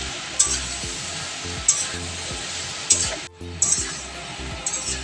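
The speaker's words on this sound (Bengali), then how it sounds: "এবার আমি একটু নাড়াচাড়া করে নেব।" A potato and pointed gourd curry sizzles steadily in a pan while a spoon stirs and scrapes it, with several sharp clinks against the metal close by.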